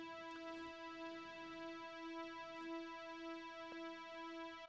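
A resonant synth lead with chorus and reverb holds sustained single notes, a bright, buzzy tone that sounds quietly and alone in a production.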